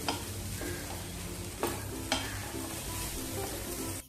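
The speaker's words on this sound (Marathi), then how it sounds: "हे सगळं खोबरं आणि गूळ छान असा एकत्र चांगलं परतवून घ्यायचंय आपल्याला" Grated coconut and melting jaggery are stirred in a pan, with a steady low sizzle and a couple of sharp scraping clicks of the spoon against the pan.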